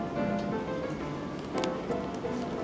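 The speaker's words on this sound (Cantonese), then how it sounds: "哇落雨，哇，落雨啊！" Rain falls outdoors on a Hong Kong street in Tsim Sha Tsui as a steady, dense patter, with a few brief louder spatters.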